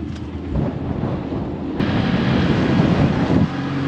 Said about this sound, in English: And one more truck.